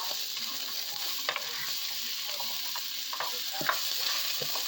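Vegetables and garlic fry in a pan with a continuous sizzle, punctuated by irregular scraping stirs of a utensil, close and moderately loud with no voices.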